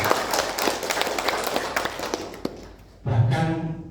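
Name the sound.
audience clapping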